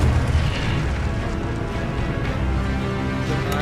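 A fire spell bursts in a wizard video game, a loud dense rumbling blast with crackling roar that fills the whole few seconds at steady high level.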